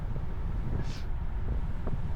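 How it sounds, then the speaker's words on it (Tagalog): Strong headwind buffeting a microphone during a bike ride near a desert camp, a steady low rumbling roar of wind noise throughout with a faint brief hiss in the middle and no talking. "Lakas kasi ng hangin dyan mga lods, headwind talaga. Sobrang lakas ng hangin"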